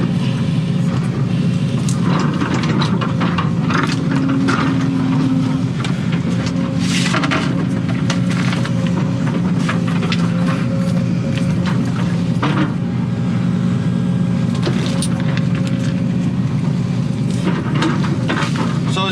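Inside the cab of an excavator clearing a wooded lot, the diesel engine drones loudly and steadily, with hydraulic whine and occasional rattles and clunks over the constant rumble.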